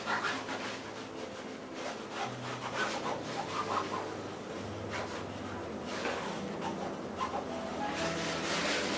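Steady rubbing of tape being burnished down onto mount board, a continuous close scratchy friction sound with slight rhythmic strokes, fairly quiet and without talk.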